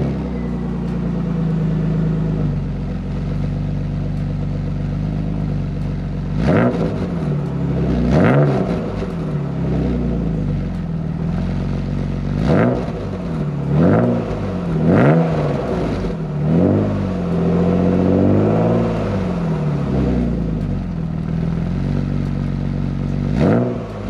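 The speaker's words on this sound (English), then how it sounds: "Let me let you hear how this exhaust sound when I was driving." BMW E36 fitted with a UUC Corsac exhaust while driving: the engine drones steadily, then repeatedly revs up in sharp, rising bursts with raspy exhaust notes, several accelerations in a row, close and loud with no talking.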